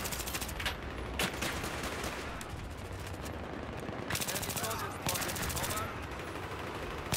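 Rapid automatic gunfire bursts from the video game Battlefield 3, with several dense volleys and single cracks layered over a steady noisy background of battle ambience.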